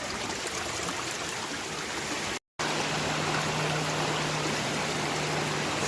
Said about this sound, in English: we found another side creek here